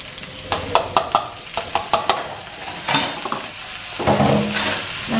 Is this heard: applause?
no